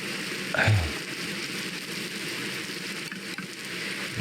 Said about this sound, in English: Light it up, get it burning.